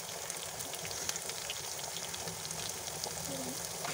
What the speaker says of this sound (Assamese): তেলখিনি গৰম হওঁতেই অলপ নহৰু আমি কাটি লৈছিলোঁ। সেই কাটি লোৱা নহৰুখিনি আমি দি ল'লোঁ।